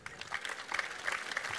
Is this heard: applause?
yes